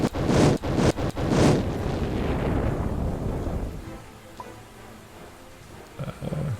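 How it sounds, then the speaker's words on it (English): Several loud, booming bursts in quick succession, like flames exploding, fading into a long rumbling roar and wind noise. "You hear more explosions of flame."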